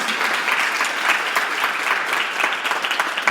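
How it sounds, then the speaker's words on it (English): Sustained audience applause for the panelists at a fashion sustainability panel, dense even clapping from a sizeable crowd throughout, no talking. "Let's give them a round of applause."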